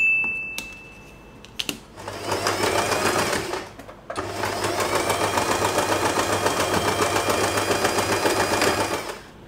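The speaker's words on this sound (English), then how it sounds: "Then you can simply sew this part." A sewing machine stitches satin fabric for a hair bow in two steady, close runs, with a brief pause between them and a few clicks before the first run.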